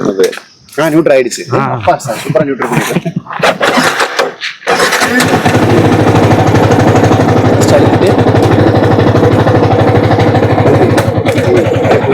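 A Yamaha R15 motorcycle engine starts and settles into a loud, steady, close-up idle, with people talking over it just before it fires.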